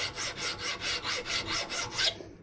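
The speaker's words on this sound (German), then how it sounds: "dann nehmt ihr eine Feile und könnt ihr dann auch hier sauber abschleifen" Mountain bike brake pad clamped and filed by hand, about nine even, rhythmic rasping strokes in quick succession, close and clear with no talk.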